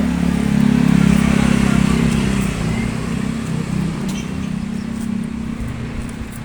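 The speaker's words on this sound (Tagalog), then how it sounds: "Mga tricycle to." Motorized tricycles pass along a street with a loud, steady engine drone that is strongest early and eases slightly as they move off.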